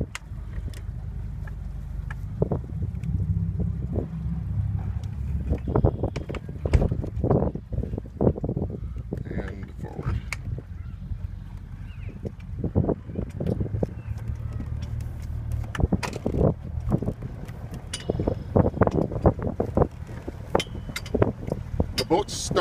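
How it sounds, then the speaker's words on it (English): A 2000 Bennington 22-foot pontoon boat engine idles and runs with a low steady rumble, along with wind buffeting and scattered knocks and clatter nearby. "The boat starts very easy from a cold start."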